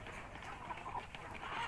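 Native chickens on a small backyard farm clucking softly in scattered short calls against a faint steady background hum, quiet and somewhat distant.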